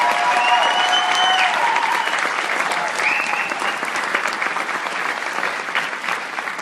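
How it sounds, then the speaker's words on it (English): School audience applauding a beginner band teacher, loud sustained clapping from a large crowd with faint cheering and whistles. "a round of applause for our band teacher"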